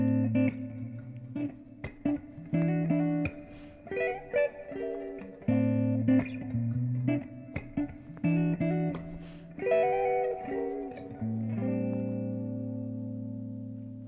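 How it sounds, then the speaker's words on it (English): An electric guitar plays a modern neo soul minor 11 chord voicing with light effects, moving through a phrase of plucked, ringing chords with short gaps between them, then ending on one long chord that slowly fades out. No voices are heard. "It's a minor 11 chord and sounds like this."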